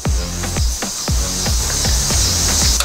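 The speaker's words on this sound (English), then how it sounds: "let's make sure it's magnetic too. So we're gonna lightly just clean these up. Maybe use a little bit of emery cloth or some steel wool" Emery cloth rubs the electrical terminals of a BUNN Ultra-2 machine clean with quick, close, rhythmic strokes, about ten gritty scrapes in steady succession.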